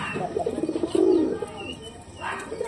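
A Sirazi pigeon coos in a short run of soft, repeated throaty calls, close and fairly loud, with a faint chirp and light background noise.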